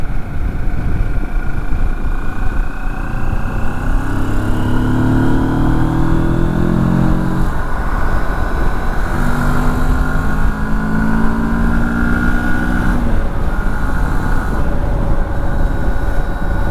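A 2023 Moto Morini X Cape 650 motorcycle cruises on a highway at about 110–120 km/h, its engine holding a steady, loud drone mixed with rushing wind, continuous throughout with no talking.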